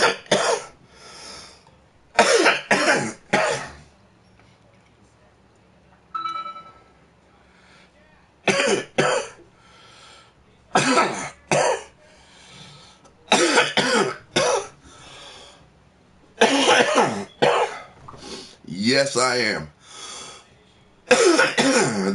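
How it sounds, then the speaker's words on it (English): Repeated harsh coughing fits from a man, attributed to heat from a dab, come in loud bursts across the span, with short stretches of speech and throat clearing between them. "The cough, it ain't from the cigarettes, though. It's from the fucking heat from the dab."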